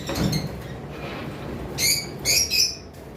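Albino and red-headed opaline lovebirds in a shop, giving a few short, bright chirps in bursts near the end, with a faint noisy background and a soft thump at the start.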